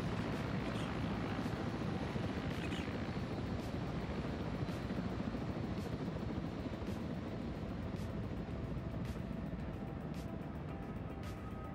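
A helicopter flies overhead in a military simulation game, its loud steady rotor thrum and engine drone filling the whole stretch, with no talking.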